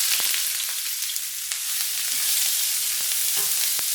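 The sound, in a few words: chopped white onions sauteing in olive oil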